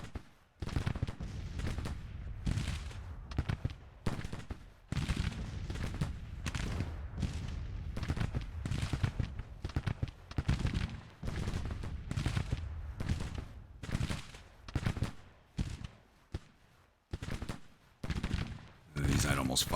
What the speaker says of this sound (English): These revolving carbines just do not have a lot of range. A lot of fire, but not a lot of range.